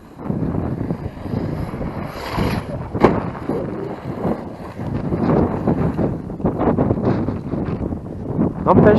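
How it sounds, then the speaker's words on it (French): Gusty wind buffets an outdoor microphone with a steady low roar, rising and falling in strength throughout and swelling again toward the end. "je sais pas si vous entendez bien, mais il y a du vent"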